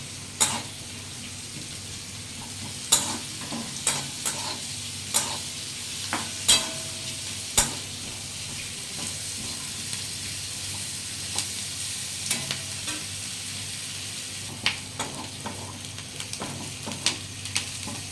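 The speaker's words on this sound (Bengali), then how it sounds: "রসুন পেঁয়াজটাকে একটু ভালো করে মোটামুটি একটু ভেজে নেব" Garlic and onion frying in a pan for a chicken stew: a steady sizzle runs throughout, broken by scattered clinks and scrapes of stirring, close and moderately loud, with no voices.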